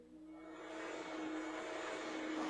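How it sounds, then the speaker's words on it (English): An Eastwood vacuum runs steadily while cleaning the rear of a minivan, giving a continuous whining motor drone with a strong steady tone that builds slightly in loudness, close and alone with no talk. "Now, we're vacuuming the back of our minivan."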